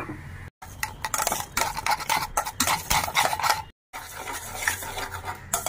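Mung dal being stirred as it dry-roasts in a pan, a steady busy scraping and rattling of spoon against metal with two brief gaps, close and fairly loud, no voices.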